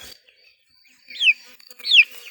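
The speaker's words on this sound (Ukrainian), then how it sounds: "Є два півники." Two short bird calls from a Silkie rooster, each a brief rising-then-falling cluck, close by with quiet gaps around them.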